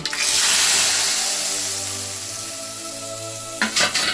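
Curry leaves and spices tempering in hot oil in a steel pan for a brinjal kadaiyal side dish, with a loud sizzle that flares at once and gradually dies down, ending in a few quick clatters.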